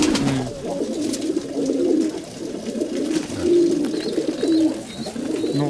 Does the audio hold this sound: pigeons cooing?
yes